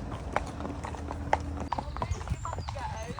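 Horses' hooves clip-clop in a steady, close rhythm on a main road during a hack out, with a person talking over the hoofbeats.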